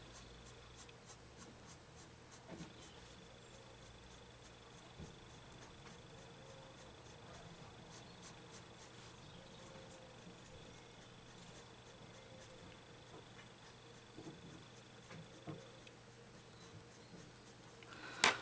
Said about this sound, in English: These pencils are working beautifully on this paper.